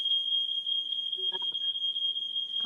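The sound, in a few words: fire alarm going off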